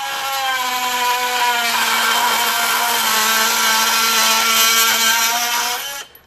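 Ryobi Gen 2 18V One+ HP multi tool (PBLMT51B) with a freshly lubed blade cutting through aluminum, a steady loud buzzing whine holding for about six seconds before stopping abruptly.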